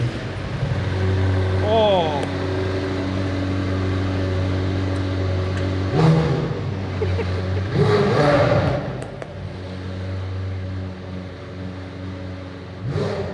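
A McLaren sports car engine fires up and revs, with a loud steady idle broken by a couple of sharp throttle blips, close up, and people talking and exclaiming over it.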